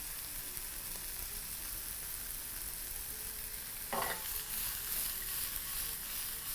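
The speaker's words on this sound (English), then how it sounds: "add your heads to the oil, to the pan, and just proceed to fry very quickly at high heat, seasoning lightly with a bit of salt" Prawn heads fry quickly in hot oil in a pan, a steady broadband sizzle and crackle that swells briefly partway through as they are stirred.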